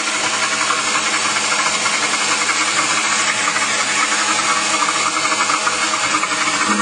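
A machine grinds pumpkin seeds and walnuts into nut butter, giving a loud, continuous motor whir with a rough, churning texture that holds steady throughout.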